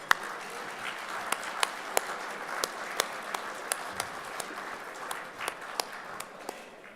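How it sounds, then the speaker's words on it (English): Faint applause in a large room at a gala, a soft wash of distant clapping with a few sharper individual claps popping out at irregular intervals. "Round of applause for Bill."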